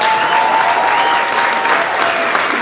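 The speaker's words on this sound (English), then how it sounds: "Once the applause subsides, we'll go to the phone lines." Sustained audience applause fills a county board of supervisors meeting room during a recall hearing, dense steady clapping from a crowd throughout, with a faint tone ringing underneath.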